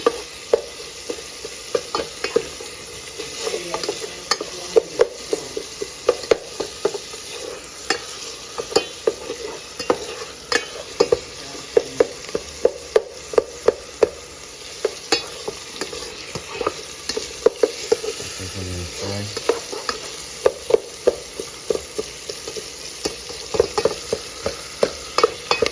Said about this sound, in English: Now we have the onion going.